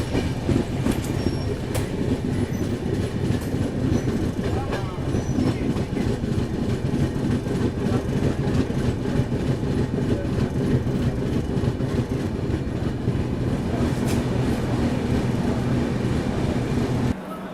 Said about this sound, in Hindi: और अभी होजी रेलवे स्टेशन में अपना अराइवल हो रहा है।